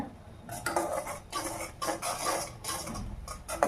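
A frothing coconut oil hair-oil mixture stirred in a pan: repeated scraping, clinking strokes in an uneven rhythm, close and fairly clear, with no talking.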